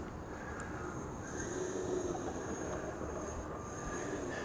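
A twin-motor Slow Stick RC plane with electric motors spinning up for takeoff into the wind outdoors, a steady mid-pitched motor whine over continuous wind and background noise.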